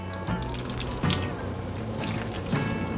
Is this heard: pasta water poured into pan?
yes